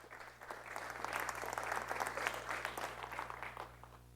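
Faint applause from a crowd, a steady patter of clapping hands heard from a distance with a low hum beneath.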